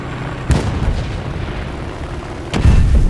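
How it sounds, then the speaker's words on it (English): Bombs dropped from a P-47 D-28 aircraft in the War Thunder video game, two deep explosive booms about two seconds apart over steady engine drone. "I'm going to try a spot of predictive bombing"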